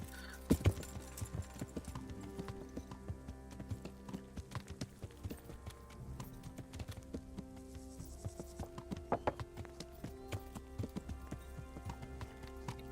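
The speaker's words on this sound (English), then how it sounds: "Let's park the horse here." Steady horse hooves clip-clop at a walking pace over a soft bed of chirping crickets in the video game Kingdom Come: Deliverance, fairly quiet and with no talking.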